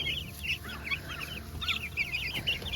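A flock of fifty fast-growing Cornish cross chickens clucks and chirps continuously at moderate distance, with overlapping calls over a low background hum.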